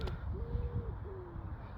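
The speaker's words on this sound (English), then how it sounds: "These birds have something to say." Birds calling outdoors, two or three soft, hooting coo notes rising over a steady low rumble of wind or background noise, with no talking.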